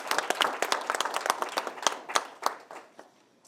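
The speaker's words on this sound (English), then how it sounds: "we should give Kate a round of applause" A small audience at a tree champion awards event claps in a loose, scattered patter of individual hands, fairly close, tapering off toward the end.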